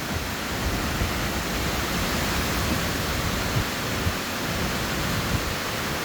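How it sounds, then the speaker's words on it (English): Strong Tropical Storm Debbie wind roars steadily outside a house by a bay, a dense continuous rushing noise with slight gusty swells and no voices. "I'm gonna be quiet for a second and let y'all hear this wind."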